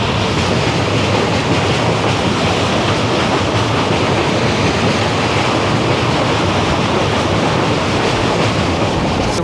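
The 13063 Howrah Balurghat Express runs past the Tangon river, a loud, steady roar of wheels and carriage rumble heard from on board, with no let-up and no voices.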